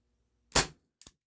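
A Walther P38 4.5mm CO2 BB pistol fires one sharp, close shot with a short decay, followed a moment later by a fainter double tick, probably the BB striking.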